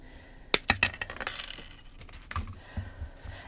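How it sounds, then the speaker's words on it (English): Heavy-duty cutters snip through thick 14 gauge jewelry wire for earrings, producing a few sharp metallic clicks close by, followed by fainter clinks and handling noise. "And I'm going to cut two exactly the same size."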